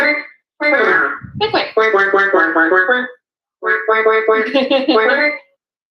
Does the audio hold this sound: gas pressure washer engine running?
no